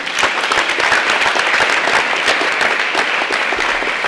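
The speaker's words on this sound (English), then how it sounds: "let's give a big round of applause to our auditors and our attorney generals" Sustained applause from a large assembly of young delegates at a state convention, many hands clapping evenly and loudly throughout.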